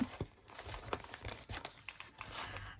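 Hot chocolate packet being folded down, giving close crinkly plastic crumpling in a run of irregular crackles.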